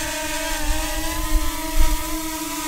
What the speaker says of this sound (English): that was a Master Airscrew propellers. Certainly a different tone, slightly quieter